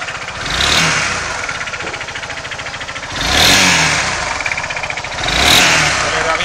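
A Honda Forza scooter engine revs up three times, each rise swelling into a buzzing whine before settling back to a steady running putter.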